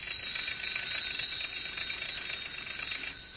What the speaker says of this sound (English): sounds like must be a telephone here someplace